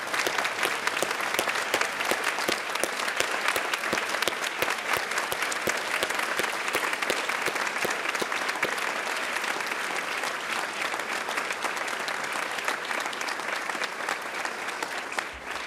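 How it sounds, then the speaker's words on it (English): A large crowd at a law school graduation awards ceremony gives sustained applause for the graduating class, a dense, even wash of clapping that holds steady for the full stretch. "I would like all members of the class of 2013, if you'll stand and we can give you one final round of applause."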